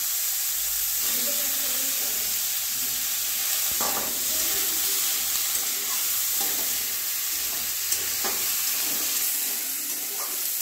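Capsicum, green and dried chillies and potatoes frying in a pan, a continuous loud sizzle with steady hiss and occasional stirring scrapes and clinks throughout, close up, with a voice faintly talking at times.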